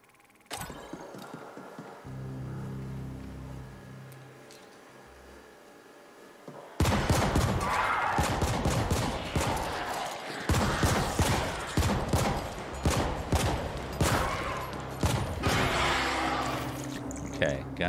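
Player's gun in The Ascent, an action RPG shooter: a quiet stretch with a low hum gives way to loud, rapid bursts of automatic fire that continue steadily to the end.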